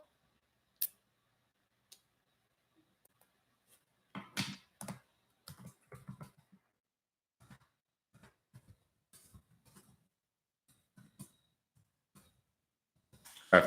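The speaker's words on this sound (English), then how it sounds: "the typing is loud" Sparse keyboard typing in scattered bursts of quick clicks, fairly close and quiet, with pauses of near silence between them.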